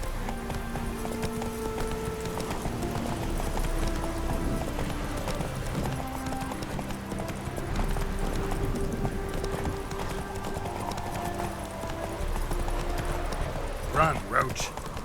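Roach the horse gallops in The Witcher 3, hooves clip-clopping in a steady running rhythm throughout, mixed with game music and occasional talk, with a brief whinny-like burst near the end.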